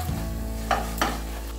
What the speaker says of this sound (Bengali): গুঁড়ো মশলাগুলোকেও আদার সঙ্গে বেশ কিছুক্ষণ কষে নেব